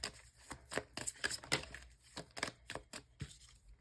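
Tarot cards are shuffled by hand in quick, papery riffles and slaps, close and quiet, in a series of short bursts with brief gaps between them.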